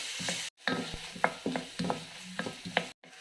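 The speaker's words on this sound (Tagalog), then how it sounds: "igigisa lang po natin to hanggang sa makita natin na nalalanta na o nagiging transparent na yung ating sibuyas" Chopped onions sautéing in a pan for pork picadillo, a steady sizzle broken by repeated scraping stirs of a spatula, with two short silent gaps at the start and end.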